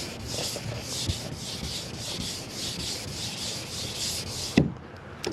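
Sandpaper is rubbed over a Monte Carlo car body panel during wet sanding in steady back-and-forth strokes, a close continuous hiss that ends with a sharp knock.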